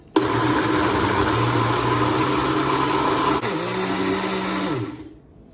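A countertop blender whirs loudly and steadily while puréeing spicy roasted red pepper sauce, its motor pitch shifting partway through before winding down and cutting off.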